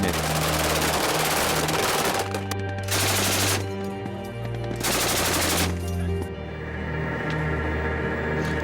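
Continuous heavy French army weapons fire, from FAMAS rifles to 20 mm cannon, roars loud and dense, with rapid bursts overlapping into a steady barrage and engine hum beneath.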